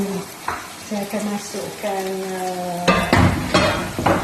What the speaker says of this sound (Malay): Dan saya terus goreng macam ni lah